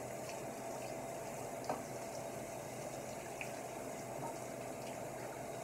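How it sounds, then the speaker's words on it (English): Steady rushing water spray runs continuously at moderate level onto a double-coated dog's coat, a dense hiss with faint splashing throughout. "It's important to get that water right on down to the skin."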